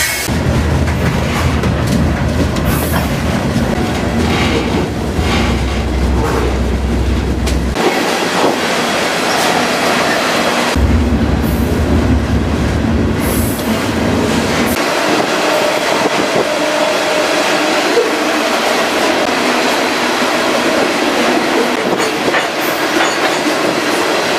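A freight train leaving a Texas rail yard rumbles loudly and steadily, with heavy low clatter of rolling cars and wheels, continuous throughout with no talking.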